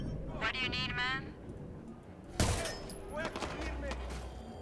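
Bursts of gunfire in Watch Dogs 2, a sharp loud volley followed by scattered shots and impacts, mixed with excited talking over the game action.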